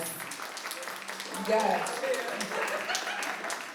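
Audience clapping for survivor services directors, a soft patter of many hands spread across the room at moderate distance, running steadily beneath a speaker's voice.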